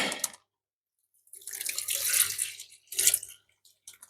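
Water is poured through a net in splashing bursts, a short gush followed by a longer, rushing pour and a final splash, with quiet gaps between.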